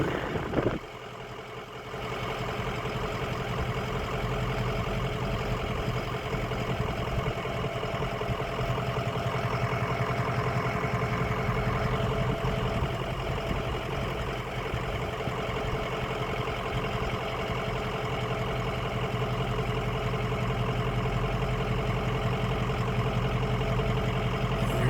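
Coasting gently downhill, a loud diesel truck engine rumbles on continuously, steady and near, after a brief dip and jolt at the start; no one speaks.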